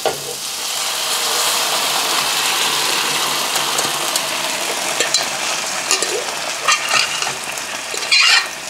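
Pumpkin curry with onion and tomato sizzles steadily in a pan while a spoon stirs it, with scraping and knocking strokes growing more frequent toward the end and no speech.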